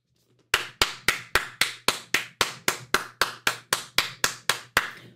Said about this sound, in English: Royal clap! Royal motherfucking clap!